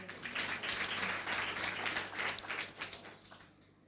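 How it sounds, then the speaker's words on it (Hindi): Audience clapping at a Hindi-language Christian sermon on the Kingdom of God: moderately faint, steady applause that thins and fades toward the end. "कितनी आसानी से आपने तालियां बजाई ना"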